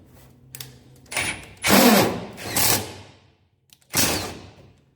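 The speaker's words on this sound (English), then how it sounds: "So I've drilled that hole" Power drill boring a hole through a steel plate during XB Falcon GS stitch-welded chassis work, three loud bursts of grinding whir with a short lead-in tap and brief pauses between.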